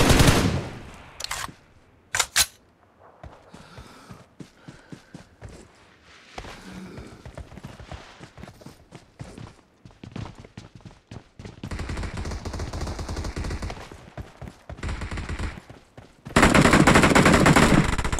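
Gunfire in the mobile battle game BGMI comes as loud rapid automatic bursts and single shots, split by quieter stretches of footsteps and movement, with a long sustained burst at the end.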